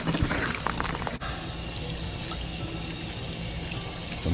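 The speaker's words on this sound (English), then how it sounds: "Give them a quick rinse." Running water from a tap rinsing cleaned brown trout, a steady close splashing flow with brief handling noise and a short dip partway through, no speech.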